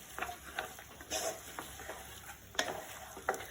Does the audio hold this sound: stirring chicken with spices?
yes